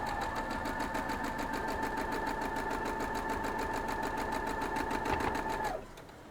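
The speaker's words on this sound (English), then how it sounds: "We're going to carry it over and sew it up now." A sewing machine runs steadily while stitching cotton quilt pieces, a close, continuous whir that holds for about six seconds and then stops abruptly, leaving quieter room sound.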